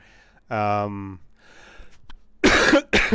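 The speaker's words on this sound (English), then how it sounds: "I think that's what's making me cough." A person coughs, two harsh bursts close to the microphone, after a short spoken sound and some quieter throat noise.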